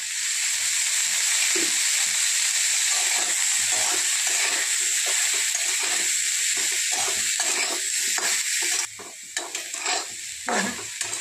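Bitter gourd sautéing in a little hot oil in a kadhai makes a loud, continuous close-up sizzle with stirring scrapes, easing slightly toward the end.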